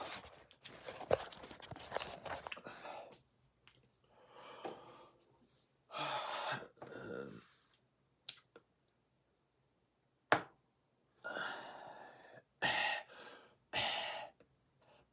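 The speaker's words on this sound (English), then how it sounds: "My breathing." Close-miked breathing during a podcast recording comes in separate bursts: sharp inhales, gasps and snorts with silent gaps between them, plus a few clicks.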